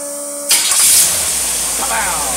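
Car engine fitted with a Holley two-barrel carburetor catching and starting after a brief quiet moment, a loud burst that settles into a steady running idle, with a voice audible beforehand.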